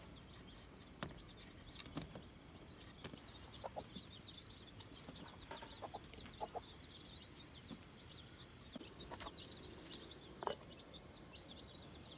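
Chickens cluck now and then around a field hut at dusk, faint and some distance off, over a quiet background with a steady high insect drone.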